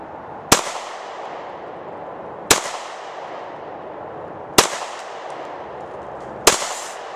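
Springfield Armory pistol firing at an old one-pound propane canister outdoors, four sharp loud shots evenly spaced about two seconds apart, each with a short echoing tail.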